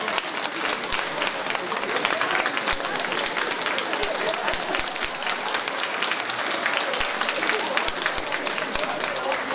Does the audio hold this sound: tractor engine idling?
no